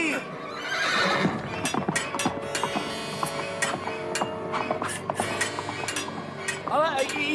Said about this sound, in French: Prenez mon cheval, Quentin.